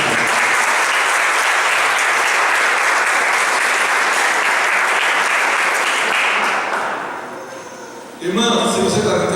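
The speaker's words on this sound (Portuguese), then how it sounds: "Aplauda nosso Pai." A church congregation applauds after a closing prayer at a worship service, sustained loud clapping that fills about seven seconds, then fades and gives way to a voice speaking.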